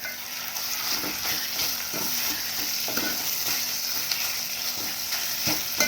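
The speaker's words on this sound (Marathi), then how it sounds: "हे मॅरिनेट केलेलं मटण टाकून घ्यायचं आहे व्यवस्थित हलवून घ्यायचं आहे" Marinated mutton sizzles and fries in a hot pan as it is stirred, a steady close hiss of frying with repeated scraping and clinking stir strokes.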